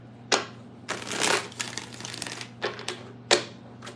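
A tarot deck is shuffled by hand in a few quick riffles, sharp close bursts of card flutter separated by short pauses.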